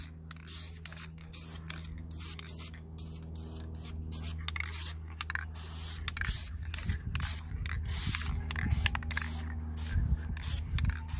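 A spray gun lays a base coat of paint on a car in a rough, pulsing hiss that runs the whole time. It stays close and grows slightly louder toward the end, with faint mechanical clicks underneath.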